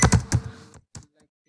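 Quick keystrokes on a computer keyboard, a short burst of close, clicky taps followed by a pause and a couple of final presses, with no talk.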